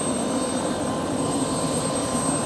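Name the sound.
helicopter taking off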